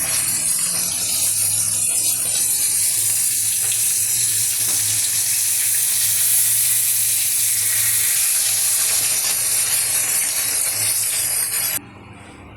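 Bengali home cooking: panch phoron spices with a bay leaf and garlic sizzling in hot oil, a loud steady hiss that holds for about twelve seconds before dropping off sharply, with no talking.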